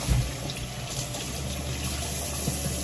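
Tap water runs steadily over store-bought vegetables, including eggplant, being washed under a faucet. The flow is continuous and fairly close, with a soft knock near the start.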